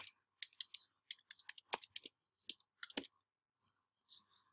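Close, faint clicking of keys on a computer keyboard, typed in irregular quick bursts with short pauses between words, no talking.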